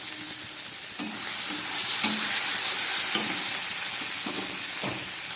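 Tomato, garlic, onion and chili frying in a pan for a spicy dish, a steady close sizzle with a spatula stirring and scraping every second or so.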